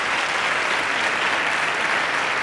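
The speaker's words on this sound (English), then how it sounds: "Let's give them a round of applause for their wonderful music" An audience at a bookstore launch event applauds a music performance with full, sustained clapping that stays dense and even for a couple of seconds, with no talk over it.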